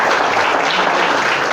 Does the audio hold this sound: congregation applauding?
yes